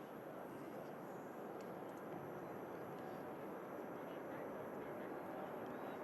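A Virgin Atlantic Airbus A330 airliner on its departure roll at Manchester Airport gives off a steady, unbroken broadband jet roar that holds at an even level from start to end.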